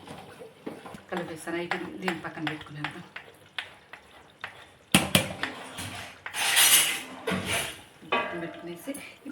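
Fish curry stirred in a cooking pot, with a spoon scraping and clinking against metal in irregular bursts and a brief sizzle, heard close under frequent talking.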